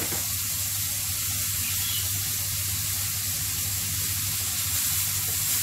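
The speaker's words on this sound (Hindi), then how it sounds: "ये आपने ओनियन को 2 मिनट्स के लिए इसी तरीके से ओपन करके कुक करना है।" Onions sautéing in an open pan with chillies and cumin, a steady, close sizzle and frying hiss that carries on without a break and with no voices.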